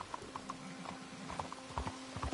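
Steady clip-clop of trotting horse hooves in Red Dead Redemption 2, a regular rhythmic patter of hoof strikes at moderate volume with a faint low hum underneath.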